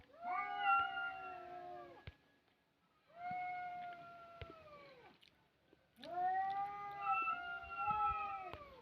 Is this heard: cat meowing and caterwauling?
yes